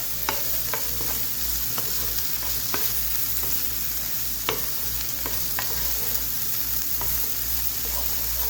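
A chana chaat mixture with onions is stirred and fried in a pan under a constant loud sizzle, with repeated sharp spoon scrapes and clicks against the metal.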